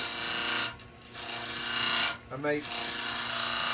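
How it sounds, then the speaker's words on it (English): Long point of a skew chisel making upright, then tilted cuts into wood spinning on a lathe, a steady continuous rasping shave broken by two brief pauses, close and fairly loud beneath a few spoken words. "We're going to start with the long point of the skew. And I'm just going to make a fairly upright cut first."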